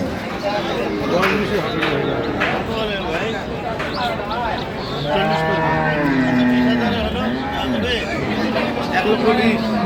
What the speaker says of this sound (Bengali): গাভী বাছুর আমরা দেখছি।